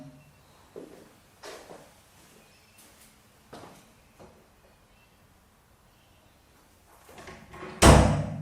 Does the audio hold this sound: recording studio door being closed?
yes